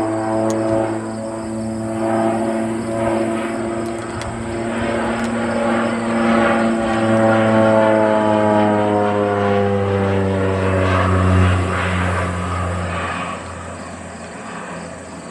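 A crop-dusting propeller airplane makes a low flyby over a rural area, its steady engine drone loud throughout with a shifting pitch as it passes, with no talk.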